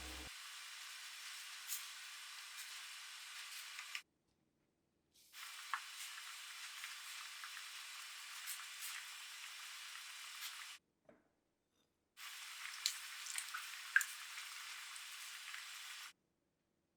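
Pollack roe stew boiling hard over high heat, a soft continuous bubbling hiss in three long stretches separated by silent gaps, faint and close.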